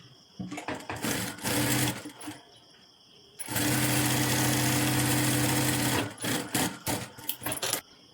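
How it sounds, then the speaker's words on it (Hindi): A sewing machine stitches along the edge of a blouse panel: short bursts of motor whir at the start, one long steady run in the middle, then several more quick runs toward the end. "इसके ऊपर किनारे से सिलाई लगाएंगे"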